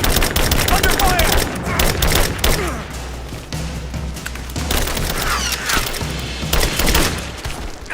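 Dense, continuous gunfire from the video game Rise of the Tomb Raider, loud rapid bursts and crackling volleys overlapping with impacts and booms throughout, with no pause in the shooting.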